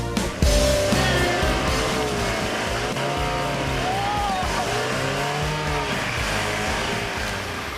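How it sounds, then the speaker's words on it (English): A 4WD vehicle engine whines and revs steadily while reversing down a hill, with tire and drivetrain noise, close and fairly loud, after a brief clunk at the start. "just starting it in reverse and driving it back down the hill"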